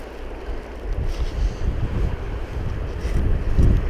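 Wind gusts across the Gibbon River in Yellowstone, buffeting the microphone with a steady low roar that swells in surges, loudest near the end, with no voices.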